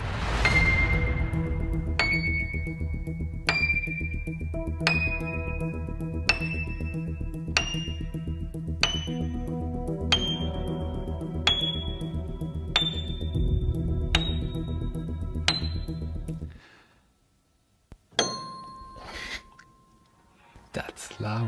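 Piano keys fitted with tuning forks glued to the hammers strike about a dozen bright, ringing pings, each decaying slowly and stepping through different pitches in an even rhythm; after a pause, a voice talks briefly near the end.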